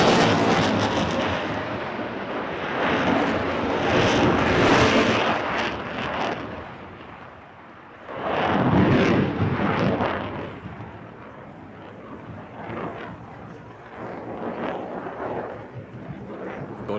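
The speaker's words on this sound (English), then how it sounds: "F-16 Fighting Falcon from the Royal Danish Air Force" A Royal Danish Air Force F-16 Fighting Falcon roars through an airshow flying display, a loud broadband jet rush that swells, fades, then surges again with heavy wind buffeting on the microphone.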